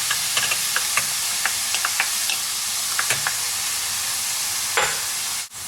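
Sliced onions sizzle steadily in a hot pan for an eggplant dish, with a bright continuous crackle broken by light ticks and a few stirring clinks.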